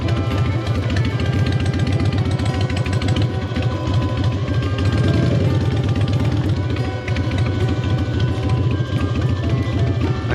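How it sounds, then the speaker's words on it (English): Heavy 800-pound dirt bike engine running loud and close, a continuous deep rumble with a steady throbbing pulse that barely changes throughout. "I have an 800-pound dirt bike."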